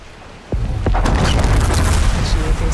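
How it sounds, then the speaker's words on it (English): Bomb exploding in Horizon Forbidden West, a sudden loud boom that breaks the quiet and gives way to a rolling crackle of debris and rumble. "Time to drop that bomb."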